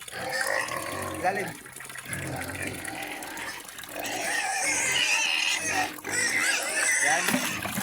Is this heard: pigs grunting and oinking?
yes